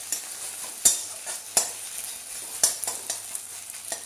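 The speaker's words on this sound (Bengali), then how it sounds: "ডিমটা এবার উল্টে পাল্টে একটু খুন্তি দিয়ে এরকম ঝুড়ো ঝুড়ো করে নেব।" Salted egg being turned and scrambled with a metal spatula in hot white oil, several sharp scraping strokes against the pan over a continuous close sizzle.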